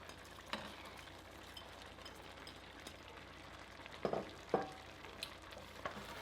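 Vegetables and cherry tomatoes in a Sri Lankan vegetable curry are stirred gently in a pot: a faint soft sizzle underneath, with a few quiet spoon scrapes and knocks near the end.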